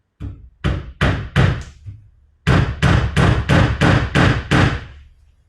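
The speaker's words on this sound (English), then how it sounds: "now I'm just going to take a finished nail. Don't Don't drive it all the way in so you can get it out when you have to." A finish nail being hammered into a wooden station mold for a boat build, first a few sharp knocks, then a pause and a steady run of about nine loud, evenly spaced blows, close and alone.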